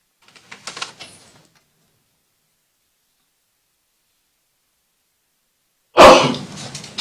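A single sharp sneeze bursts out loud and close in a quiet courtroom after a long silence, following faint scattered sounds at the start.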